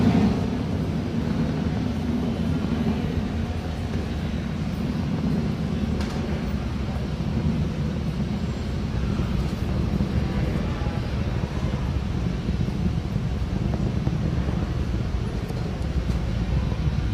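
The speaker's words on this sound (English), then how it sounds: "That Falcon 9 rocket is now throttling back up to full speed as it ascends through the atmosphere." A SpaceX Falcon 9 rocket ascends through the atmosphere during the PAZ mission launch, a steady, dense roar with deep low-end rumble that holds level and unbroken throughout.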